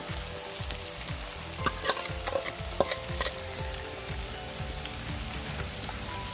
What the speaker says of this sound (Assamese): এতিয়া মই ইয়াত বিলাহীখিনি ঢালি দিম।